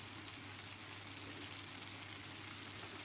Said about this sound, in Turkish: mantar, sarımsak böyle et sote gibi bir kavurma var. Bu da burada pişiyor.